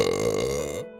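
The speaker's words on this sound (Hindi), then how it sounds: "जी हाँ, डकार आना" A loud, close, drawn-out burp with a throaty, droning tone lasts almost a second before cutting off abruptly.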